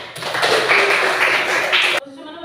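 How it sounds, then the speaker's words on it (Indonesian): A classroom full of students claps together in a dense, steady two-second burst that stops abruptly, leaving faint room sound afterward. "Tepuk tangan."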